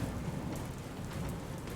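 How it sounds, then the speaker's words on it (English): Heavy rain pours down steadily during a lightning storm in a fantasy tabletop adventure, a dense, continuous rushing hiss with no pauses and no voices. "And rain begins to pour down"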